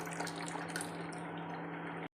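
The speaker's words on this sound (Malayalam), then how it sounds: "കുറച്ച് ചെറുനാരങ്ങ നീര് ഒഴിച്ചു കൊടുക്കാം" Lemon juice is poured into rice water boiling for biryani, a continuous wet bubbling and trickle that stops abruptly near the end, with no voices.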